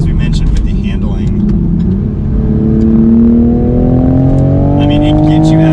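Toyota Supra A90 engine pulling hard under acceleration, a loud rising drone that climbs steadily in pitch over several seconds, heard alongside road and cabin noise.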